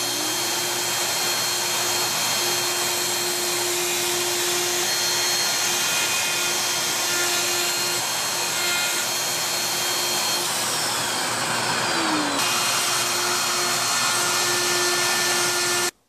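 A router in a Festool MFS routing template cuts a wood wall plate, giving a loud, steady motor whine that holds throughout and dips in pitch briefly near the end.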